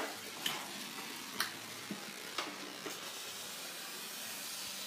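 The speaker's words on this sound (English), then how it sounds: "once the water drains out of there, the steam starts coming out pretty good again" Steam from a hose on a guitar fret steamer used on a 1973 Takamine 12-string, hissing steadily and fairly faint, broken by several small sharp pops and spits.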